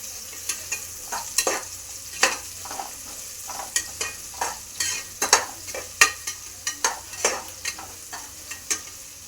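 Wilted food frying in a pan as it is stirred, with a steady sizzle under repeated scraping strokes of a spoon, close and moderately loud, and no talking.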